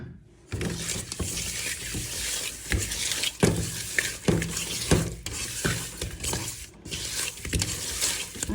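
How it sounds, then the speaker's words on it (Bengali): Fish being hand-mixed with turmeric, chili powder and salt in a bowl: steady wet squishing and slapping with soft scraping against the container, close and continuous for several seconds, no talking. "হলুদ মরিচ লবণ দিয়ে মাছটা মাখিয়ে নেব"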